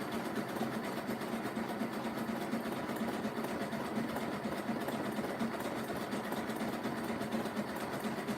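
A sewing machine runs steadily stitching cord into a rope basket, a continuous fast whirring hum at close range without pauses or voices.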